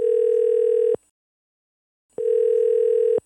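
A telephone ring-back tone sounds while a radio call is being connected, two loud steady electronic tones of about a second each separated by a pause, heard alone.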